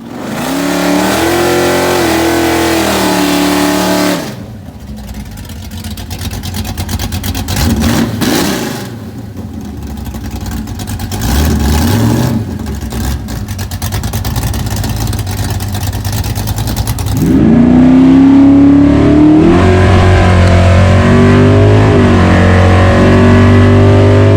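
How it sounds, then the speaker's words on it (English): A 1968 Dodge Dart drag car roars and revs on a drag strip, its engine rising and falling through several loud pulls before a final surging blast near the end. "We're gonna go do a time-only run and see if the car's at least back where it should be."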